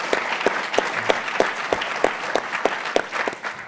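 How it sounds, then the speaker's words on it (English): Audience applause fills a room at an evening talk in a university speaker series, with many hands clapping steadily and fairly close throughout, the sharp individual claps standing out over a dense crowd wash. "So a round of applause for our colleagues here at iHouse"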